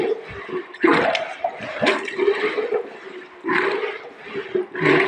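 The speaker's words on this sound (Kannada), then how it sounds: "ನಮ್ಮದೇ ಹಸುವಿನ ಹಾಲಿನಿಂದ ಮೊಸರು ಮಾಡಿ ಮಜ್ಜಿಗೆ ಕಡಿಯುವ ವಿಧಾನ ನೋಡಿ ಹೇಗೆ ಕಡಿತಾ ಇದ್ದೀನಿ ಅಂತ" Homemade curd from cow's milk being churned into buttermilk with a stick fitted with a coconut shell, giving loud, close sloshing and gurgling liquid bursts that come in uneven surges, with no talking.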